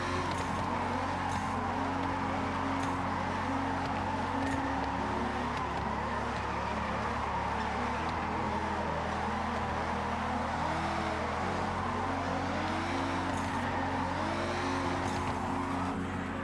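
High-horsepower Gloria car in Forza Horizon, engine droning steadily throughout with shifting harmonic tones as it accelerates and eases off, loud and continuous with no talk.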